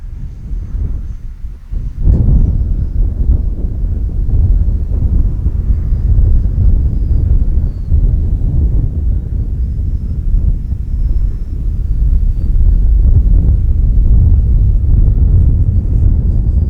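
Arrows Marlin RC plane flying at full speed into a strong wind, a steady distant motor drone buried under heavy wind buffeting on the microphone, continuous throughout.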